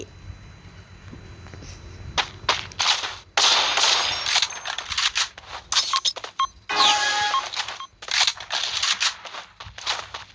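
Rapid gunfire from a shooter video game, sharp repeated shots in bursts with short gaps, fairly loud and close, with some metallic clinks between them.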